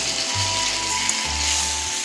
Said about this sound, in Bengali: এই মশলার সঙ্গে আমি ভেজে নেব।